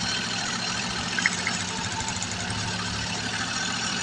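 A Suzuki Multicab DA64 engine idles smoothly and evenly, a steady low hum with faint mechanical ticking and no voices.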